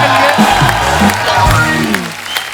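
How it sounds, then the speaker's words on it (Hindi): Studio audience at a Kapil Sharma comedy show applauds and cheers for arriving guests, a steady wash of clapping with whoops, mixed with the host's voice and other voices throughout. "जोरदार तालियां हमारे मेहमानों के"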